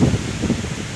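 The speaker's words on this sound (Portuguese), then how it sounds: "Vento forte aqui, pessoal." Strong wind buffets the microphone outdoors in open natural surroundings, a loud low rumble that surges and dips in quick gusts with no voices.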